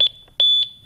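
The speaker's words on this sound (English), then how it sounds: "When you return home through your entry door, the system will beep as a reminder to disarm the system." An ADT Lynx Plus alarm system keypad beeping: a short high beep, then a longer held tone, each clear and close, with quiet in between.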